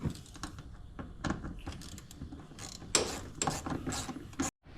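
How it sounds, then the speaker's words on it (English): Bolts being tightened on the plastic belt box of a Polaris, a close series of quick ratcheting clicks and metallic mechanical rattles, fairly quiet, ending in a brief silence. "So got to be careful when you tighten these bolts up."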